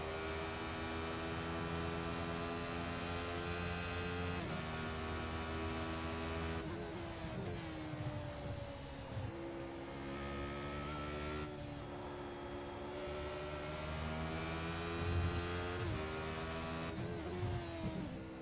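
A race car engine in the iRacing sim screams close to its rev limiter while slipstreaming down a straight, a loud, sustained high-pitched drone with brief dips where gears change.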